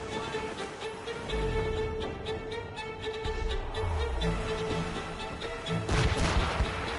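Ship cannons boom in the naval combat of the video game Assassin's Creed Rogue, several heavy low blasts spread across the scene with crashing impacts, a final louder volley near the end, over constant wind and sea noise.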